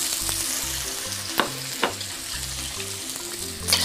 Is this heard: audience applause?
no